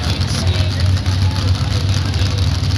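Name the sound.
pulling truck engine idling at the starting line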